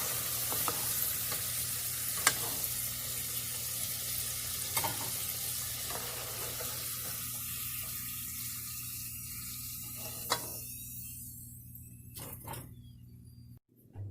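Potatoes fry in a pan of oil with a steady soft sizzle, joined by occasional sharp clicks and utensil taps, and the sizzle fades toward the end.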